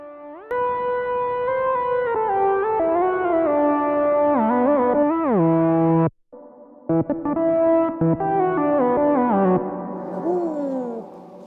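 A synth played through a guitar pedalboard with hall reverb and overdrive rings out in sustained, gliding distorted tones with long echoing tails, cutting out briefly midway before a second phrase returns, loud and alone.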